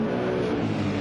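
Peugeot race car in a racing video game, its engine holding a steady, loud drone with a dense harmonic hum throughout the short stretch, no voices.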